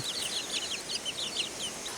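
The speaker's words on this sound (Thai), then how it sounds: "เอาไก่น้อยมาเลี้ยงอยู่ให้นี่แหละ" Chickens clucking and calling in a rural setting, a string of short bright clucks repeating irregularly over steady outdoor background noise, fairly close and moderately loud.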